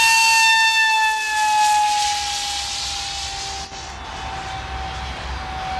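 A Funjet RC pylon-racer hotliner's electric motor throttling up gives a loud, steady, high-pitched whine with sustained tones that hold across the whole stretch. No voices are heard.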